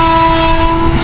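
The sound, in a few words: passing train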